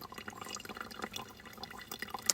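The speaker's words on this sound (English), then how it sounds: "Filtering water." Water trickles and drips steadily as it is filtered outdoors at a backcountry pond in the Maine wilderness along the Appalachian Trail, with small splashes and liquid patter close by and no voices.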